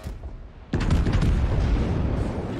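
A heavy boom of battleship main-battery artillery fire in World of Warships sounds at about 0.7 seconds, loud and close, followed by a sustained low rumble and roar that carries on to the end.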